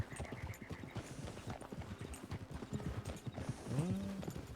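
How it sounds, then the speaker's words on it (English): Wild horses gallop in Red Dead Redemption 2. Their hooves make a steady, rapid clip-clop, and a whinny comes near the end. The sound is faint and distant, and nobody speaks. "I hear some horses. I believe they're still the wild ones."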